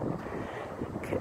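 Cold wind buffets the microphone outdoors in a Texas park, a steady broadband rush with brief gusts swelling and fading over a second.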